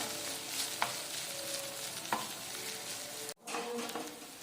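Steady, quiet sizzling from a pan on a stove as something is sautéed, with a couple of faint clicks from a stirring spoon and a brief drop in the sound near the end.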